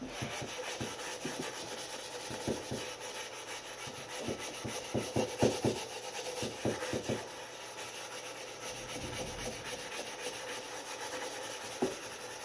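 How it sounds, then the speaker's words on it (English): A super coarse Brillo pad scrubs over painted wood, blending and distressing the finish, producing a run of quick close rasping strokes in bursts over a faint steady background. "you take your super coarse Brillo pad and you start blending it into the paint"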